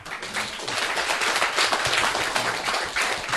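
A crowd at a Buddhist monk's dharma talk bursts into sustained applause, dense overlapping handclaps filling the room at steady loudness for several seconds, with no voices heard.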